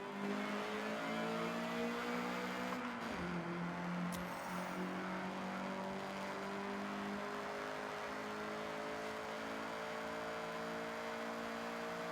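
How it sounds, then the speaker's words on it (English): A Honda CRX in the Forza 6 video game accelerates with a steady engine drone whose pitch dips briefly around a gear change, then climbs and holds, loud and continuous with no talking. "get the CRX up to speed"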